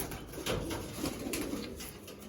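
Fancy pigeons in a loft give soft, low, rolling coos, several birds overlapping in a steady murmur at close range with no talking.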